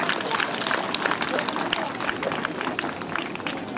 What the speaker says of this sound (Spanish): Un aplauso para la profesora Marina Sanajar